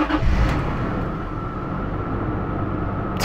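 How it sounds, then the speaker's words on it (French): A V6 car engine jump-started with a small 12V battery booster runs at a steady, loud idle after an initial burst of cranking and catching, with a continuous low rumble close by and no talking. "voir si effectivement ce booster parvient à démarrer malgré la basse tension initiale de la batterie"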